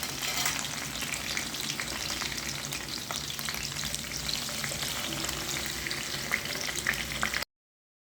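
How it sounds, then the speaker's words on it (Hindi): Half a kilo of okra (bhindi) fries in hot ghee, giving a dense, even sizzle and crackle close up with light stirring and no talking, until it stops abruptly at the end. "घी हो गया गर्म, अब हम इसमें डाल देंगे भिंडी हमने लिया हाफ केजी। अच्छी तरीके से फ्राई कर लेंगे।"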